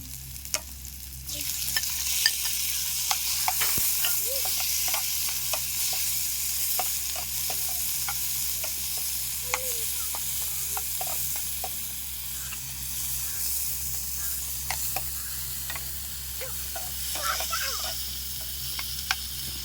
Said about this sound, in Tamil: வெங்காயம் நல்லா வதங்கட்டும் அடுத்தது வந்து நம்ம தக்காளியை சேர்த்துருவோம்